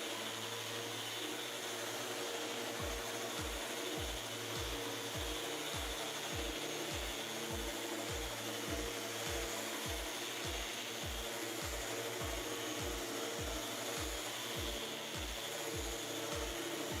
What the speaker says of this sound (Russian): ставлю на шлифмашину наждачку 180 и с двух сторон чищу щиты.